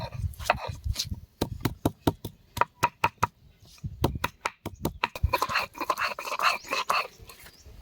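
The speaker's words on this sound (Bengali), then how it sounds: "আমরা এখন আদাটাকে বেটে নেব।" Ginger being pounded into a paste on a grinding stone in a home kitchen: a run of sharp, evenly spaced knocks, close and fairly loud, followed by a rougher, busier stretch of scraping and tapping.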